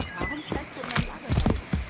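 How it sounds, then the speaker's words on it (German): Horse hooves clip-clop as a horse is ridden in the video game Assassin's Creed 3, a few uneven close thuds with a soft snort, over a background of game ambience. "Wollen wir mal mit dem Pferd reiten?"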